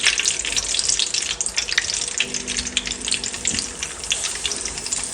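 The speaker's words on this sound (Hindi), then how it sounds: "अब हम आलू फ्राई कर लेते हैं।" Potatoes fry in a pan with a steady, dense sizzle of hot oil, close and continuous, rising and falling slightly as they are stirred.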